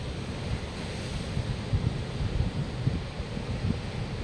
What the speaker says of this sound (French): Et puis, bien sûr, l'océan Atlantique